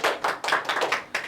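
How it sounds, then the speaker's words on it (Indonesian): A small group claps for a classroom presentation team in a brief, close burst of roughly a dozen quick, irregular hand claps. "Tepuk tangan untuk kelompok dua"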